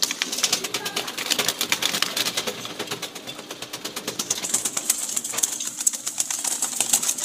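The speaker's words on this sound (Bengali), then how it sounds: "আর এখানেও আছে কবুতর, যে মাঝে আছে" Pigeons in a loft, among them a red-eyed bird missing a toe, shuffle and flutter close by, a steady run of quick ticking and rustling with soft cooing beneath that lasts throughout.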